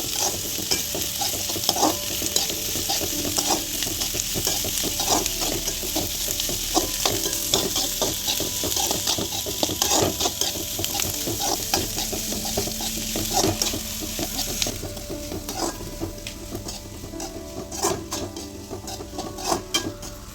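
Vegetables and chillies being stir-fried for roadside-style egg noodles, a loud constant sizzle with rapid repeated scraping and clanking of a spatula against the pan.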